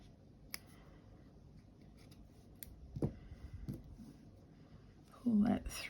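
Scissors snip through crochet yarn, a few faint crisp cuts in a quiet room, with soft low speech nearby.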